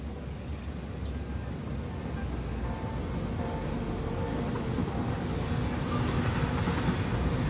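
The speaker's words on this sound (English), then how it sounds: "that train just went through Station E for no apparent reason" A train in the video game Satisfactory rolls through a station, a steady low rumbling roar of rail cars that holds evenly and swells slightly toward the end, with no talk.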